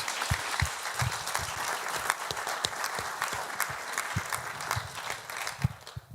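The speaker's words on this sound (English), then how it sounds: "why don't we give them all a round of applause again?" An audience applauds steadily, a dense patter of many hands clapping at once, sustained throughout without voices.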